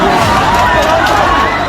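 Dense crowd noise on a street during a protest in Bareilly, a loud continuous hubbub of many voices and movement with no single clear speaker.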